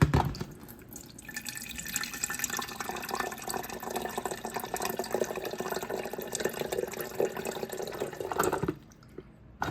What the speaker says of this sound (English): We're out of water. So I'm gonna go fill this up real quick.